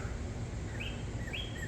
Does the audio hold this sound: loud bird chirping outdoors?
yes